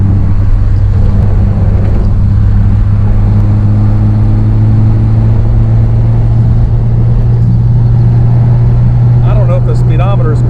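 1959 Austin Healey 100-6 cruising in overdrive at about 1,800 RPM, a loud, steady low engine drone with road and wind noise, continuous throughout.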